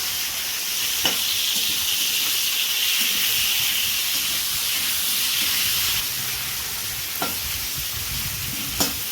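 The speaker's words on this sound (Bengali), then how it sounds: "তারপরে কুমড়োগুলো দেওয়া হচ্ছে কুমড়োগুলো ভাজা হবে" Pumpkin pieces frying in a pan, a continuous close hissing sizzle with a few soft knocks of a utensil, fairly loud and without speech.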